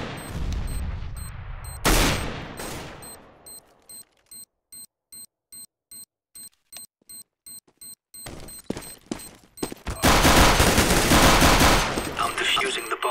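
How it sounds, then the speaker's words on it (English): Video game combat: heavy gunfire bursts and a blast, then a regular sequence of electronic beeps before loud sustained shooting and explosions resume. "I am throwing a grenade!"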